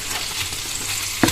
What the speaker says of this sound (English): You can hear the sizzling.